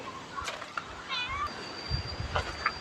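A pet cat meows once, short and fairly faint, amid soft background rustles and a thin steady whine.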